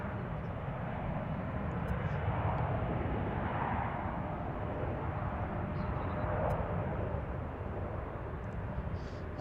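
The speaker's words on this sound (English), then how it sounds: "That one's taking off towards the southeast." A jet airliner takes off at Washington's Reagan National Airport (DCA), heard from Gravelly Point as a broad, steady engine roar at moderate distance, swelling and fading slightly over several seconds amid outdoor ambience.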